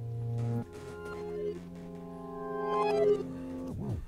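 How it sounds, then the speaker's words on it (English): Harp sample played backwards, sustained reversed notes swelling in and cutting off, faint and alone, with a short rising-falling swell at the end. "That is the sound of a harp, and then, of course, a harp played backwards."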